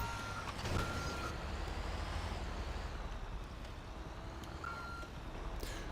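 A garbage truck in GTA 5 Online reverses with steady, evenly spaced electronic beeps under a constant engine rumble and wind-like hiss, with no talking.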